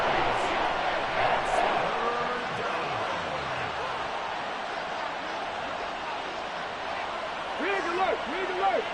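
A football stadium crowd roars loudly and steadily, a broad sustained wall of cheering that swells slightly at the end, with voices talking over it.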